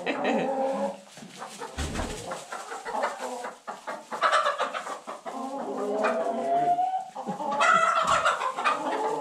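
Backyard flock of hens clucking and squawking close by, a busy continuous chorus of overlapping calls with a few louder squawks and no talk.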